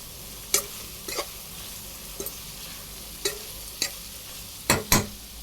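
Dried fish pieces fry in a pan with salt and chili, giving scattered crackles and scraping stirs against a quiet background, with no talk.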